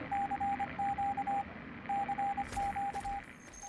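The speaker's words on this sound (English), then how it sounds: "we get this radio signal that just broadcasts some Morse code" Morse code radio signal in Fallout 3, a clear steady tone keyed in rapid dots and dashes with a pause between groups, over low static hiss and a faint thump near the end.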